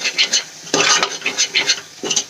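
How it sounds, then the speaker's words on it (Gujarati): A spice mix being stirred and sautéed in a pan, heard as a string of short scraping and clinking strokes of a utensil against the pan, close and fairly crisp, with brief pauses between strokes. "હવે બધા મસાલાને સરસ રીતે આપણે મિક્સ કરીને સાંતળી લઈશું"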